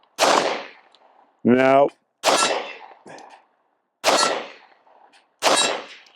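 Pistol shots fired at a steel target 45 yards away, loud sharp cracks spaced a second or two apart, several followed by a metallic ring from the struck steel; someone speaks briefly between shots.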